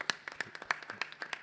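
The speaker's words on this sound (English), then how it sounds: "Duncan, a clap for Duncan, please." A few people clap unevenly, scattered quick claps at moderate distance, fairly faint and thin rather than a full ovation.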